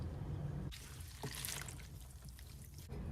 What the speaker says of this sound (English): It is still a little murky, a little gritty, so I'm going to rinse them for a third time